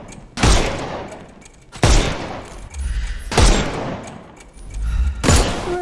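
Four loud, evenly spaced gunshot blasts from a Sherlock Holmes video game, each a sharp booming crack followed by a rolling decay, with no talk between them.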